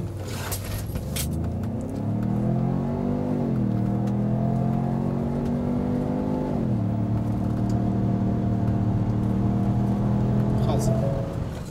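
A 2017 Ford Edge with a six-speed automatic accelerates hard from standstill on a hot day with the air conditioning running and passengers aboard; the engine drone climbs in pitch, drops at two gear shifts and keeps rising, heard from inside the cabin.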